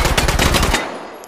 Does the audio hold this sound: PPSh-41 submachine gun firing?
yes